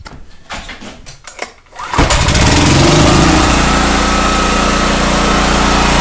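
A Honda EX1000 portable generator engine cranks over with a few brief pulls, then catches at about two seconds and settles into a steady, loud, close running drone.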